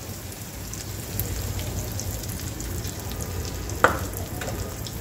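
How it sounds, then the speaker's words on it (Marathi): Beaten egg mixture for anda bhurji fries in a pan with a steady crackling sizzle, and a single sharp clink sounds near the end. "हे मी फेटलेलं अंड्याचं सारण घालून घेते."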